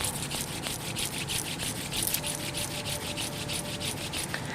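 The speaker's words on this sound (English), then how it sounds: "Rub the palms." Palms of the hands rub briskly together during a Kundalini yoga self-care practice: a steady run of quick, even friction strokes, close and continuous, with no talking.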